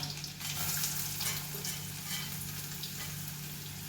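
Garlic and green onion go into hot coconut oil in a pan, giving a soft, continuous crackling sizzle with a faint stirring texture, quiet and steady throughout with nobody talking.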